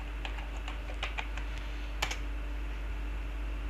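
A computer keyboard clicks as a password is entered at a command prompt for MySQL, a short cluster of light, close keystrokes followed by a single firmer press over a quiet background hum.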